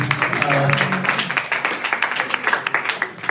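An audience at a graduation ceremony claps steadily, many hands in a crowded hall producing a dense patter with rhythmic peaks, voices audible beneath the applause.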